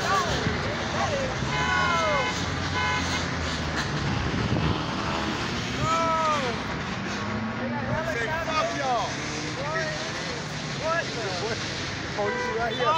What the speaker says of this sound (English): They got helicopters.